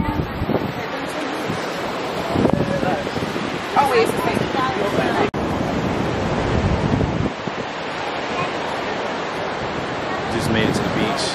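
Ocean surf rolls and crashes continuously at a Costa Rica beach, loud and close, with heavy wind buffeting the microphone and people talking over it.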